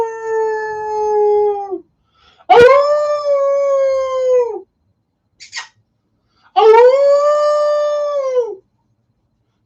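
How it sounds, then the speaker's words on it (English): A pet dog howls in long sustained, wavering tones, three drawn-out howls close by, with a short spoken greeting in between. "She actually howls with you."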